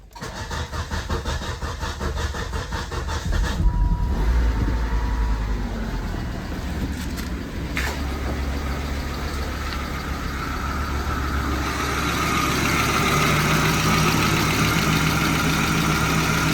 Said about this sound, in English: we're going to start the engine now and hope for the best.